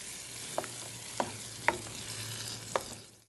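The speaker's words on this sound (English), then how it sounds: "We're going to give it a quick stir." Pureed San Marzano tomatoes hiss and sizzle steadily in a hot pan while a utensil knocks against it four times at uneven intervals, close and alone with no talk.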